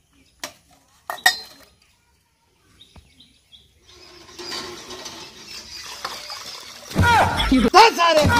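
Metal utensils and pots clink and clatter during dishwashing in a rural home, sparse knocks at first, then busier scraping and rattling with louder clanks near the end, under some background voices.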